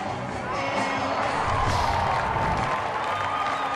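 A baseball stadium crowd cheers and applauds after an outfielder's leaping catch at the wall robs a home run, a broad, sustained roar with clapping that swells mid-clip.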